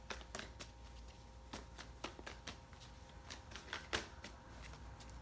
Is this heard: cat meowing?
no